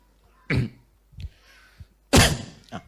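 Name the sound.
cough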